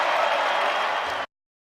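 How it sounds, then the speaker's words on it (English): A basketball arena crowd in downtown Detroit roars and applauds at a Pistons home game against the Celtics, a dense, steady wash of noise that cuts off abruptly. "The crowd loves it in downtown Detroit."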